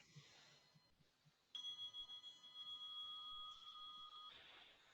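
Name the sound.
bell ringing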